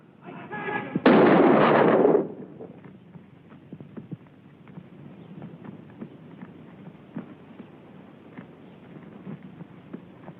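One loud, sharp gunshot blast from a 1950 western film, booming for about a second, followed by quieter scattered knocks and thuds against a low background hiss.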